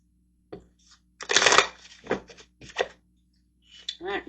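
Tarot cards are shuffled by hand in several quick riffling, rustling bursts close by. Short gaps of quiet fall between the bursts.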